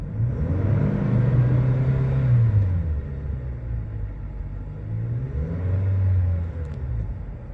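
A 2018 Toyota Hilux Workmate 2x4 dual cab driving on the road, a steady low engine rumble with gentle rises in revs as it accelerates through gears, heard from inside the cab.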